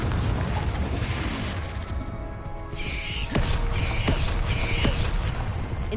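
A Confringo blasting curse fires in Hogwarts Legacy, a loud game spell with sharp cracking impacts near 3.3 and 4 seconds over a dense, constant rumble of battle noise and effects.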